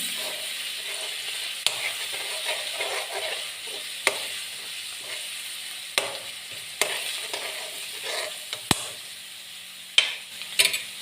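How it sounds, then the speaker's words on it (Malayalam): Steady frying sizzle of mango pickle with a spoon scraping and clinking against the pan every couple of seconds, close and fairly loud. "എന്നിട്ടത് നന്നായിട്ട് നമുക്ക് ഇളക്കി കൊടുക്കാം"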